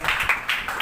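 A church congregation claps hands together in one burst, close and loud, with the overlapping slaps blurring into a short patter.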